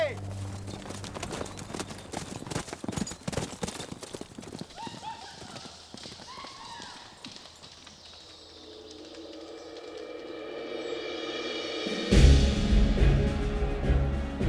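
A horse galloping with quick rhythmic clip-clop hoofbeats in the opening seconds, set against a dramatic orchestral score that swells and grows louder toward the end, with narration running over it.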